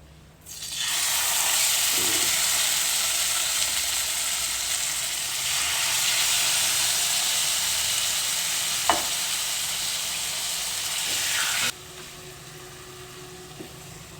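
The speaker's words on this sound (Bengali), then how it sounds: "এবার আমি একটা একটা করে চিকেনের পিস দেব চিকেনটা কিন্তু ভাজা হবে" Chicken pieces frying in a pan give a loud, steady hiss that starts abruptly as they go in and holds close and bright, with a single clack partway through before the sizzle cuts down to a quieter level.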